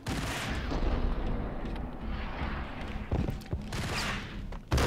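Shotgun blasts in the video game Max Payne: heavy booming shots over rumbling action noise, with a sharp loud blast at the very end.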